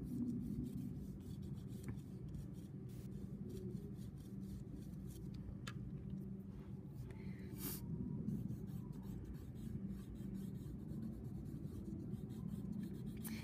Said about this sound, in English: I'm using an overhand grip here that's going to help me use the wide flat side of my pencil graphite